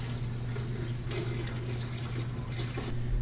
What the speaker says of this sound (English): I'll put the water in now right to the basically the bottom of these covers.